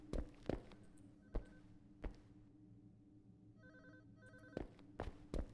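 A telephone ringing in the horror video game Unspoken, a quiet trilling bell in short repeated bursts, mixed with sparse thuds and footstep-like knocks.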